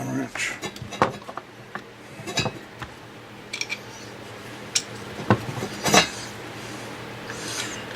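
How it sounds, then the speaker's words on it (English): Metal tools clatter and rub as someone rummages for a smaller Allen wrench while building a Ruger 10/22 with an ATI AR22 kit, with scattered close clinks and scrapes in an irregular pattern. "I need to switch to a smaller Allen wrench."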